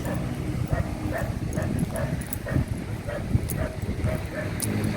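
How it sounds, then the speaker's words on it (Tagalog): A dog barks repeatedly in an abandoned market, sharp yips and barks at a moderate distance over a noisy background of rumbling ambience. "May aso dun na yan."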